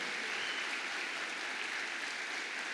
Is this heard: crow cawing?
no